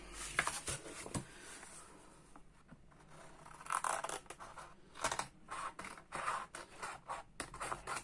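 Scissors cut through paper for a scrapbook album cover, giving crisp snipping and scraping strokes in irregular bursts, close and moderately loud with quieter pauses between cuts.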